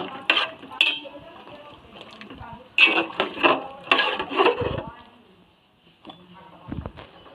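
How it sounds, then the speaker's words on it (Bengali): Whole flat beans being stirred in a pan make close scraping and clattering strokes in uneven bursts, with brief pauses between them. "শিমটা দিয়ে ভালো করে নেড়ে চেড়ে নেবো"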